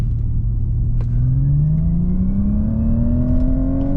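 A Hyundai IONIQ 6 N electric car floored in 4th gear from very low speed gives off a steadily rising synthetic engine-like tone. The drone climbs evenly over a constant road rumble, close and continuous, with no talking.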